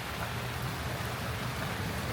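Heavy rain pours steadily over a botanic garden in Maleny, a dense, unbroken hiss that stays at an even loudness throughout with no voices.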